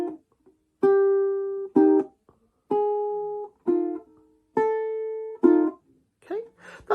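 A ukulele plays a slow fingerstyle jazz chord melody, with a series of ringing plucked chords and single notes separated by short pauses, close and clear.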